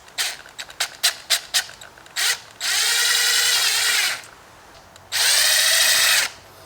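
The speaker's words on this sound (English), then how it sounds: "we're going to use an 1/8 inch drill bit and we're going to drill 2 holes" A power drill with a 1/8 inch bit whirs in short bursts while drilling holes in a KTM motorcycle, then runs steadily for over a second, stops, and spins up again for a second long run, close and loud.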